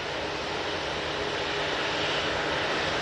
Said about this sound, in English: Off to Gran Canaria with this 787-8 Dreamliner.